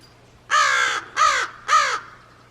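Crows on a clear day after rain give three loud, close caws, each about half a second long, with short pauses between them over a quiet background.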